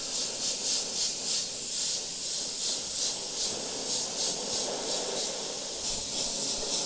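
Airbrush misting paint coats onto a skull mask, a continuous close airy hiss with faint pulsing as passes sweep across, steady and unbroken throughout.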